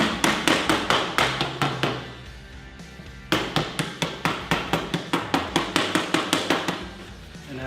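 A paint can lid is hammered shut through a paper towel, with rapid rhythmic blows in two bursts of about ten strikes each separated by a short pause, loud and close with no talk.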